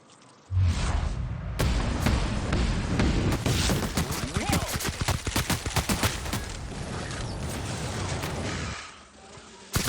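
Gunfire in the video game The Outer Worlds: a dense, loud burst of rapid repeated shots and booms that runs for most of the stretch and then stops abruptly, with no talking.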